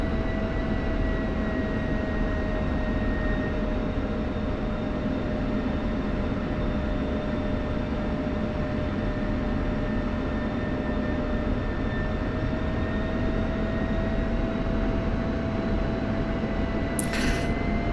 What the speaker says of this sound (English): Just taxiing down here and toe braking it